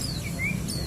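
Clear, sweet whistles of a white-rumped shama, a few rising and falling notes close by, with a steady low hum underneath.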